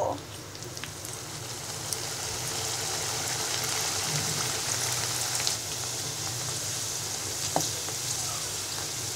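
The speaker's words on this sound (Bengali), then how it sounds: "এবার মুগ ডাল সহ ছাকনিটা আমি গরম তেলের মধ্যে দিয়ে দিব" Mung dal lowered in a strainer into hot oil, a dense steady sizzle like light rain that swells after a brief splash at the start and stays loud and close.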